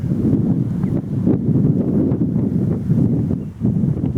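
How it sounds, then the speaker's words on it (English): Strong wind buffets the microphone on a countryside walk near Chiddingstone Causeway, a heavy, continuous low rumble that surges and dips in gusts, close and loud. "Wind is picking up"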